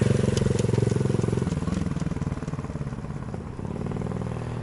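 A Honda Super Cub motorcycle circles a parking lot, its small single-cylinder engine putting steadily with a smooth, even throttle and a brief dip in revs, heard up close and continuously throughout.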